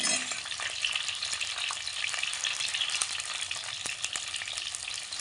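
Small onions and eggplant sautéing in a pan for a tamarind and chickpea curry, with a continuous steady sizzle and faint scraping of stirring, close and even throughout.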